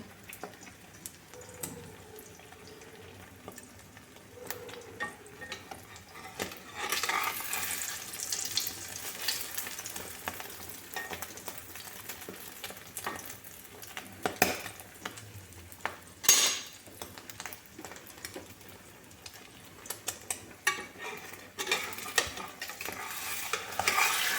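Egg frying in a pan gives a steady sizzle with a spatula stirring and scraping; a tap runs briefly and utensils clink, with no one talking.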